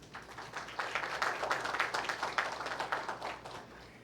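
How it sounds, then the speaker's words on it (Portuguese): Audience applause at a ceremony in a legislative chamber, a steady patter of many hands clapping for a few seconds at moderate distance before tapering off. "uma salva de palmas, por gentileza"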